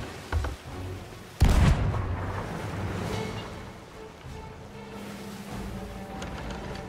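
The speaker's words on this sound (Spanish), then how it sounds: "Vienen los cañonazos." Ship cannons fire in the pirate game Sea of Thieves, with a sharp loud boom after a smaller thump, followed by rumbling water and ocean ambience around the vessel.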